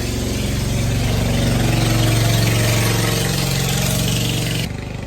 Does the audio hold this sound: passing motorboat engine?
yes